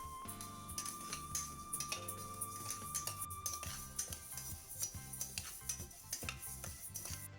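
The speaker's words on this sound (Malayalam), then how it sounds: "ഇങ്ങനെ ഡ്രൈ റോസ്റ്റ് ചെയ്തെടുക്കുമ്പം കണ്ടിന്യൂസ് ആയിട്ട് ഇളക്കി കൊടുക്കണം." Lentils dry roasting in a pan are stirred continuously, giving a faint steady patter of rattling grains and soft scraping taps against the metal, with no voices.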